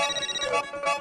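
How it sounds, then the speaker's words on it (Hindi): A phone ringtone plays in a comedy household scene, a short bright melodic tone heard alone and at moderate volume for about a second. "अब्दुल का फोन लगता है"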